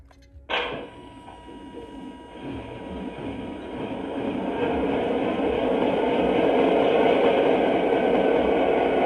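Lionel model train locomotive running on track, starting with a sharp click, then a steady rumbling drone that grows gradually louder over several seconds, close by.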